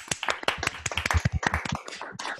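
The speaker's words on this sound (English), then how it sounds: "How about another round of applause for these two?" A small audience claps after a chamber music performance at a summer festival, giving a brief burst of dense, close applause that thins out toward the end.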